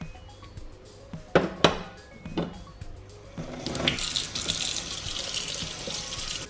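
Tap water running in a sink while Rotimatic parts are washed, a few hard plastic knocks and clatters first, then a steady rushing stream of water close by.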